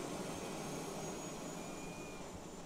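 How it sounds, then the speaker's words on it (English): A gigantic aircraft in the video game Carnivores Ice Age flying off with a hunting trophy, a steady, faint jet-engine roar and hiss that holds evenly from start to end. "gigantic AC plane carrying away our trophy"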